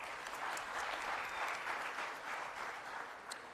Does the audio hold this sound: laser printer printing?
no